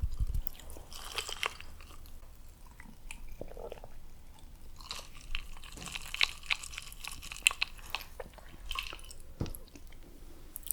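Soft, close-up chewing and crunching of McDonald's fries, quiet irregular bites and squishy mouth sounds in a hushed setting with no talking.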